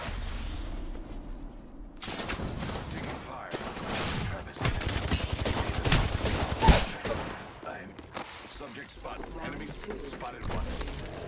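Video game firefight with bursts of gunfire and automatic weapons fire, loud and dense after a quiet start, with thumps and mechanical clatter under occasional game voice lines.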